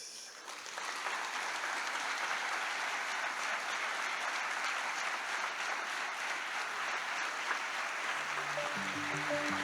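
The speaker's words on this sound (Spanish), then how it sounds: "Agradecemos con un fuerte aplauso a Pacho O'Donnell" A lecture audience gives a sustained round of clapping after a master class by Pacho O'Donnell at the Escuela Luján, dense and steady throughout.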